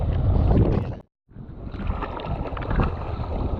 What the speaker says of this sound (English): now it's just a headwind and it's about 15 knots